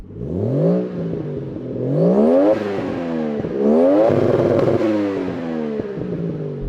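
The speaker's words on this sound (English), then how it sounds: "How about the Toyota Chaser? Let's hear you rev it." Loud, close Toyota Chaser engine revving in a few long sweeps, pitch rising sharply then falling back, rough and throaty throughout.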